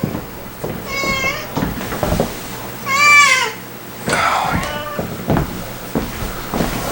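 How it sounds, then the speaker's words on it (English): A cat meows several times, drawn-out and insistent, with quieter rustling and a few short noises between the calls. "Can't have you meowing the whole time."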